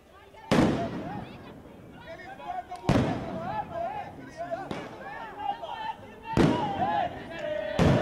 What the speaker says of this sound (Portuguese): Bomba, bomba,